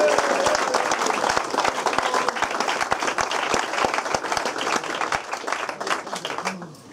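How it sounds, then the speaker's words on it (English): Audience at a football club presentation evening applauding, a dense burst of many hands clapping that fades gradually toward the end, with no speech on top. "So if you'd like to give them a clap,"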